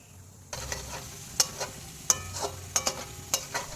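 Dried red chillies and whole spices tempering in hot oil, a crackling sizzle that starts abruptly, with sharp stirring clinks against the pan scattered over it.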